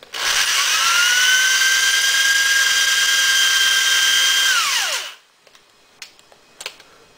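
A reamer or uniforming tool spins a .223 Remington brass case with a loud, steady high whine for about five seconds, then winds down and stops, followed by a few faint clicks.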